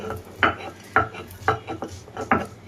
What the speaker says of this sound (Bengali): এখন এটা শিল পাটার সাহায্যে আমার বেটে নিতে হবে